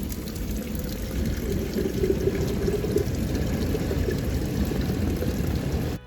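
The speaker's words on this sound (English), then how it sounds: "I stumbled upon the ancient Serdica mineral water fountains" Mineral water pours steadily at the ancient Roman-era Serdica fountains in Sofia, Bulgaria, a continuous close splashing rush of hot water at constant loudness, with no one talking.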